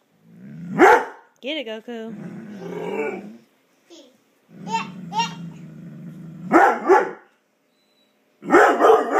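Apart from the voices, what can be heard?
dog barking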